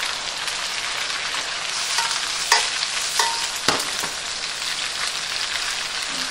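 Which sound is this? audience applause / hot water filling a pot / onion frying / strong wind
onion frying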